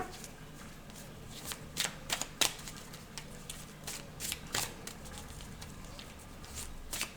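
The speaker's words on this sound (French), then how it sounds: "on remet nos cartes" Tarot cards being shuffled by hand, a series of soft riffling bursts and papery flutters in an irregular rhythm, close and fairly quiet over a faint room hiss.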